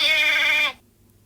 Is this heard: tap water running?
no